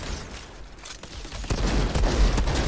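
Automated turret fire in the Outriders shooter game, a dense rattling burst of rapid gunshots that swells louder toward the end, close and unaccompanied by talk.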